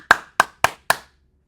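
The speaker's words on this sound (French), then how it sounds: "on s'applaudit les gars" Four sharp, separate hand claps in an uneven rhythm, close and crisp with silence between them, as a small group applauds a young man named Mathis.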